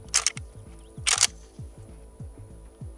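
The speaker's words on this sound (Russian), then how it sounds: "Это было самое вялое запирание затвора, что я вообще видел на АК." An AK rifle's bolt closes sluggishly, giving two sharp metallic clacks about a second apart over a steady pulsing low thump in the background.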